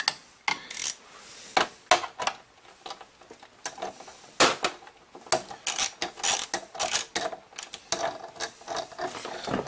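A ratcheting screwdriver works screws on a Juno-106 synthesizer, giving close, crisp bursts of clicking pawl teeth in irregular spurts with short pauses, loud and alone.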